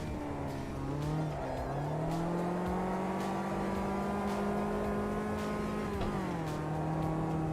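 A Caterham 1.7 race car engine in Automobilista 2: a steady, droning engine note held at near-constant revs with small pitch dips and shifts, heard alone and moderately loud.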